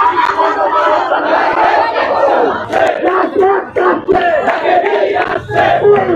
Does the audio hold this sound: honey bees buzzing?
no